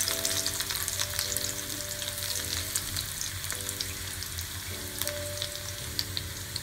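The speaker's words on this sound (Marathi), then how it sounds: "आणि लसूण आहे ती चांगली लाल झाली पाहिजे।" Garlic frying in very hot oil in a kadhai, a quiet, steady crackling sizzle close by with faint tonal hum behind it and no voices.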